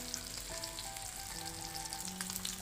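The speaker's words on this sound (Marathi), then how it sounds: "काही वेळ त्यांना आपण मंद गॅसवरच ठेवू, कारण मग चांगले कडक बनतात" Fish fries in a pan over low gas, making a soft, even sizzle and crackle with faint pops, fairly quiet and steady, with a few faint tonal hums underneath and nobody speaking.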